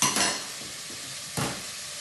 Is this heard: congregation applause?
no